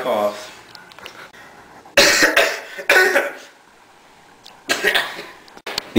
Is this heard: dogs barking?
no